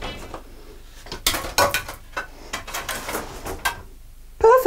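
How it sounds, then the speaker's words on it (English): A plastic Titli Tomato Tector garden plant cover is taken apart by hand, giving a run of sharp clattering clicks and knocks in uneven bursts, close and fairly loud, with quiet gaps between and one last louder rattle. "The unique unpatented design of the Titli Tomato Tector means that it dismantles in seconds"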